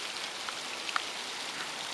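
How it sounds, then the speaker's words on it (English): Heavy rain falls steadily onto the ground around a house beside a golf course after nearly two hours of downpour, a dense, even hiss with a few sharper drop taps and no voices. "It's been raining now for almost 2 hours."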